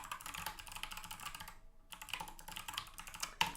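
Fingers type on a computer keyboard in fast, uneven runs of clicks while a makefile is being written. There is a short pause midway, the tapping resumes, and there is no talk.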